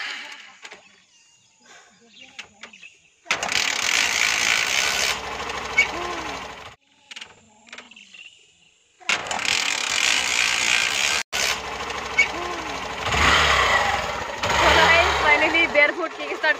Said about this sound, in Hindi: तो अभी हम बेयर फुट किक स्टार्ट कर लेगा पहले।